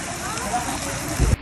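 Heavy typhoon rain during Typhoon Carina pours down as a dense, steady hiss over rising floodwater, with a voice talking underneath and a brief louder splash near the end.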